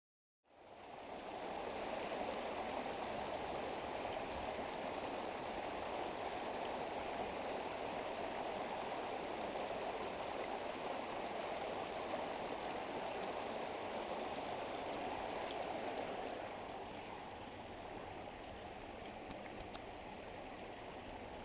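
A small creek below the Churchville Reservoir in Northampton Township, Pennsylvania, flows with a steady, broad rushing wash. It holds an even level throughout and softens slightly near the end, with no voices.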